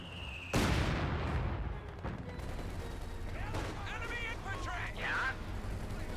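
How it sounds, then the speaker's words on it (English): Mortar half-track firing during a Company of Heroes battle, a sharp loud blast near the start followed by a rumbling battlefield bed with distant shots and voices murmuring in the background. "Mortar half-track firing away."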